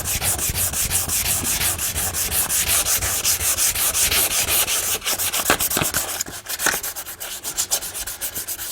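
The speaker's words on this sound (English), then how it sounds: "I'm just going to fold my sandpaper in half and start sanding on the surface." Sandpaper scrapes back and forth over the painted metal of a Yoder smoker in fast, rhythmic strokes, loud and close, with a few sharper scuffs toward the end.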